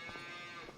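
Cows low in Farming Simulator 25 on a Welsh farm map, with a brief, fairly faint moo that sounds alone and without talk.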